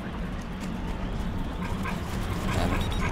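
Dogs in Metal Gear Solid 4 bark, yip and whimper over a constant noisy game background, fairly faint and continuous throughout.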